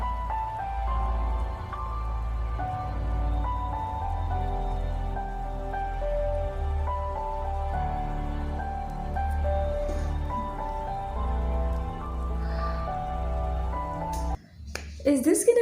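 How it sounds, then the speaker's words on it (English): Recorded rain patters softly in a song beneath slow, ringing piano notes and a low sustained bass, ending in a sudden burst of louder noise. "And drops of rain."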